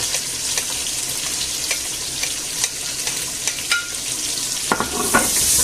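Onions, peppers, carrots and garlic stirred around a hot pan, a steady close sizzle with scraping spoon strokes scattered throughout and a few sharper clinks near the end, no voices.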